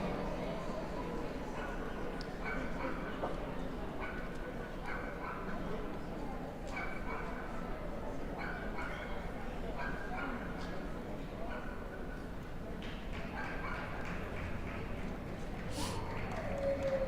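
Welsh Springer Spaniels and other dogs yip and bark at a large indoor dog show, scattered sharp barks over steady crowd murmur and announcer speech.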